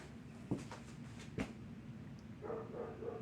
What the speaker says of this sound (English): Ignore these dogs out here.